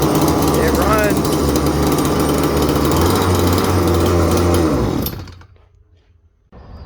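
A small engine runs in a rough, buzzing drone with a steady low hum, then cuts out abruptly near the end, leaving near silence before faint noise returns.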